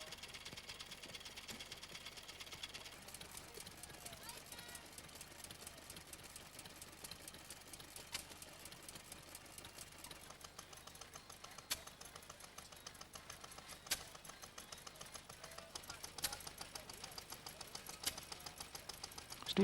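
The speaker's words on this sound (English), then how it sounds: "This time driving a miniature model of a traction engine." A miniature model traction engine chuffs along, working in a fast, steady mechanical rhythm of rapid ticking beats with occasional louder knocks, running alone at moderate volume.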